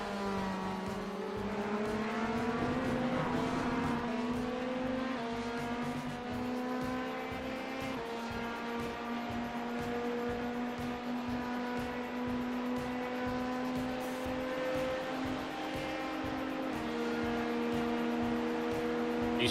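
Onboard roar of Garage74's race car lapping Watkins Glen in a six-hour race while overtaking a Corvette and an LMP prototype: a loud sustained engine note rising through the revs, with gear changes and steady road rumble, no talking.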